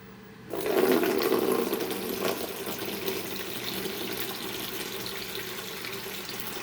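Tap water runs to refill a pet's water bowl, starting abruptly and gushing steadily, loud at first and then settling into a continuous splashing stream with no voices.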